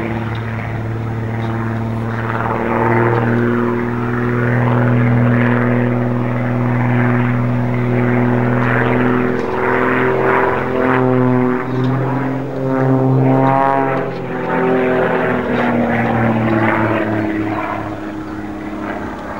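A propeller aerobatic aircraft with a 300 hp Lycoming engine drones loudly and continuously overhead, its pitch rising and falling as it maneuvers through the sky.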